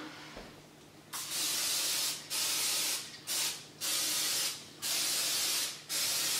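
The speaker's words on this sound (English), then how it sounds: "I just use some Pam, which is original Pam, and I literally just spray them down" Five bursts of cooking spray hissing onto a muffin tin in quick succession, close and loud, with short pauses between them and a faint low hum underneath.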